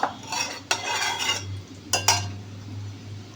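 A spoon clinks and scrapes in a bowl, stirring and mixing a sauce for chili soybean, in short bursts of close, clear metallic clatter over a low steady hum.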